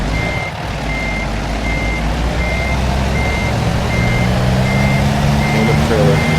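A big rig in American Truck Simulator backs up with its reversing alarm beeping in a steady, evenly spaced rhythm over the low drone of the idling diesel engine.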